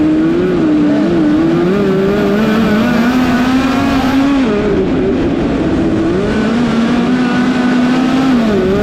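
Race cars running on a dirt track at the Chili Bowl, engines roaring loud and close with continuous revving that rises and dips through the corners, with no break throughout.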